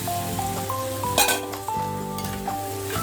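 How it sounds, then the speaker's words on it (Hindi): Boiled chickpeas tipped into a pan of hot masala set off a steady, close sizzle, with a brief louder burst of frying and a few light metallic clinks of a spoon against the pan. "और हम डाल देंगे ये जो बॉयल किया हुआ छोले, ये हम डाल देते हैं।"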